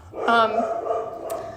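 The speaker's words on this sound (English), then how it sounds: "I'm sorry if you can hear my dogs barking in the background." Dogs bark nearby in a short burst of loud yelping barks with a whimpering tail, heard alone without talk.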